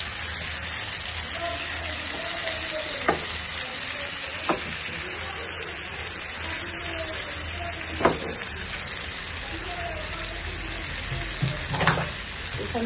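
Fish sizzles steadily as it is sautéed in a pan, a constant close hiss of frying broken by a few sharp spatula taps and scrapes at irregular intervals, with no talking.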